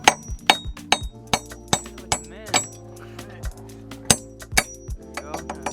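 Sharp metallic hammer strikes driving new wheel studs into a brake hub during a Wilwood brake kit install, irregular ringing blows with clinking tones, close, with people talking between hits.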